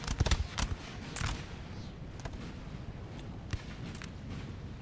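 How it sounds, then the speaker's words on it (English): French troops fire a musket volley in a Napoleonic Total War video game: a cluster of sharp cracks at the start, then scattered shots and distant booms over a low rumbling battlefield din. "We got a volley from France."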